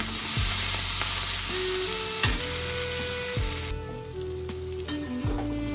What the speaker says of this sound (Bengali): এটাকে আমি পুরো ভাজবো এখন